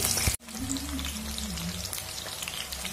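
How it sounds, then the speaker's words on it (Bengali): Two medium-sized potatoes frying in leftover oil in a pan, a dense steady sizzle like light rain that starts after a brief cut and holds evenly, close and moderately loud. "এই তেলের মধ্যে এবার আলুগুলো ভেজে নেব"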